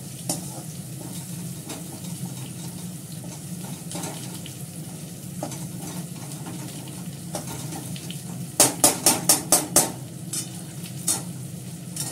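Onions fry in a pan with a steady, moderate sizzle while a utensil stirs them, and near the end a quick series of sharp scraping clacks sounds against the pan.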